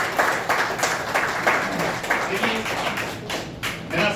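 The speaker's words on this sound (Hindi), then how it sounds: "आप सबकी ताली फिर से एक बार अपने लिए" Audience in a packed meeting hall clapping, a steady dense wash of applause with sharper individual claps throughout, loud and close, with faint voices underneath.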